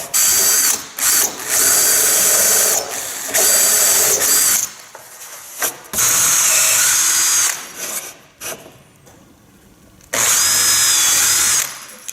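Loud bursts of a power drill with a drill-and-countersink bit whirring in several spells, starting and stopping with brief pauses between, close by with no talking, while installing solar panels on a motorhome.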